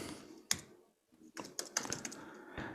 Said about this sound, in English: all you have to do is start typing in their names